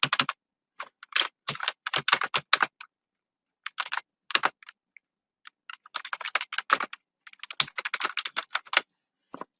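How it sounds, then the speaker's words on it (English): Bursts of close, crisp computer keyboard typing, clusters of rapid key clicks separated by short pauses, steady and fairly loud with no voices over it. "if I type some title here"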